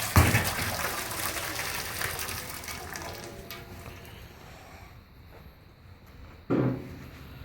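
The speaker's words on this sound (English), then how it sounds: "Add some water so that will keep the meat nice and moist." Water poured into a pan of homemade beef and pork ribs being assembled for cooking, a brief gushing splash near the start that fades into a softer trickle, with another short splash near the end.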